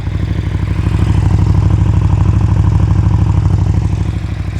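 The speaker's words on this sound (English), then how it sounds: "So there's the exhaust." A 2019 KTM Super Duke 1290R idles steadily up close, its stock exhaust giving a deep, even, rhythmic burble that holds constant throughout.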